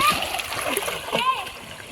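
Splashing water as people jump into a river, mixed with children's shouting and chatter outdoors, busy splatters under overlapping voices.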